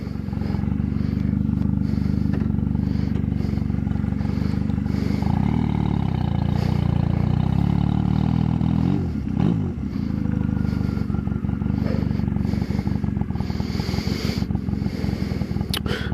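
A loud Honda Rebel motorcycle engine idles with a rough, throaty rumble from a cut-off, gutted exhaust, revving briefly near the middle, steady and close throughout.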